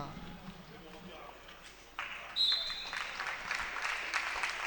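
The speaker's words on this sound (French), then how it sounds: "les applaudissements du public" A tennis crowd applauds at the end of a set in a late-afternoon match, a soft, distant wash of clapping that swells partway through, heard under a commentator's voice.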